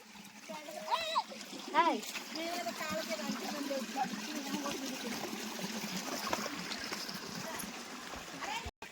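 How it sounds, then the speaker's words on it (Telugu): Water trickles and splashes steadily in a small canal near Boddugudem waterfalls, with people talking over the constant flowing murmur. "ఇక్కడ చిన్న కాలువలో వాటర్ వస్తుంది భలేగా"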